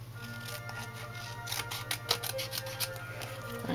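Scissors snip out a paper image in a quick run of short, crisp cuts, close and moderately quiet, over a steady low hum.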